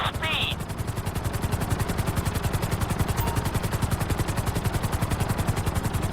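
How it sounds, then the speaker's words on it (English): A helicopter in a video game flies steadily with a loud, continuous rhythmic rotor thumping throughout, plus a brief high chirp near the start. "we'll see how well you handle the chopper"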